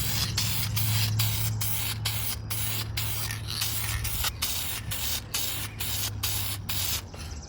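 Aerosol can spraying UV protectant coat over a Raptor lawn ornament, a steady close hiss broken by short regular pauses throughout, with no talking.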